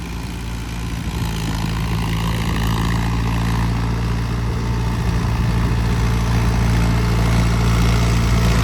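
An Arjun tractor engine runs steadily through paddy puddling, a loud, continuous low diesel drone that holds at a constant level with no speech.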